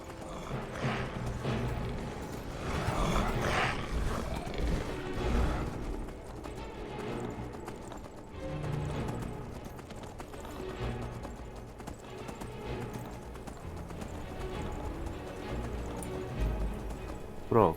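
Horse galloping in the video game Skyrim, steady clip-clop hoofbeats running continuously under game music and a man's speech throughout.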